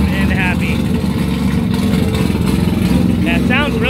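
A three-rotor Mazda RX8 Formula D car idles through a cold-start warm-up, its steady, loud rotary drone running continuously throughout, with some speech audible over it.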